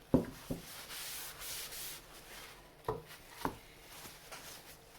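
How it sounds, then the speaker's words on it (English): A cloth rubs excess oil stain off a wooden sign, making soft, faint swishing strokes with a few sharper taps and bumps from handling the board, in a quiet room. "we're going to clean that stain off"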